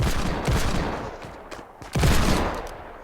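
Gunfire in a shooter video game, two loud close bursts of rapid shots separated by a short lull, the second burst heavier, with no talking.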